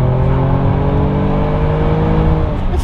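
A Kia Telluride SUV with an aftermarket Borla exhaust in sport mode, a loud steady engine drone with a rising tone as it accelerates, heard from inside the cabin with no talk.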